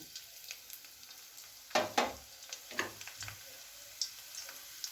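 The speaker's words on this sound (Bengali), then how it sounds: "এই তেলের মধ্যেই এবার আমি দিয়ে দেব রসুন কুচি," Chopped garlic hitting hot oil in a pan, a quiet background sizzle broken by a few sharp crackling bursts and spatters, followed by scattered small pops and ticks, with no talking.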